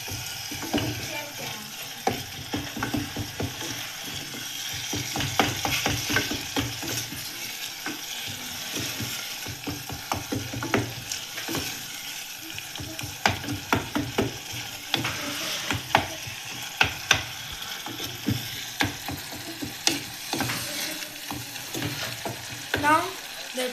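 Carrots frying in a pan for egg curry while a spoon stirs them, making a continuous sizzle with frequent rhythmic scraping and clacking strokes close by.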